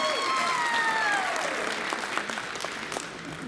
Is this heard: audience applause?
yes